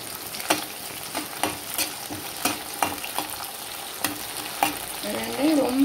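Onion and green chilli frying in oil for a Tamil fish curry, a steady close sizzle broken by repeated scraping stirs of a spoon in the pan, with no talking.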